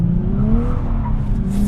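A 2023 Nissan Z slides fully sideways, its engine droning loud and close with a steady rising tone and tire noise running through the whole short burst, with no talking over it.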